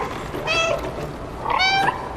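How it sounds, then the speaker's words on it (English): A cat meows twice in the video game Stray, two clear, close, drawn-out calls with a pause between them over a low background murmur. "On the way up, I decide to annoy some of the citizens with constant meowing."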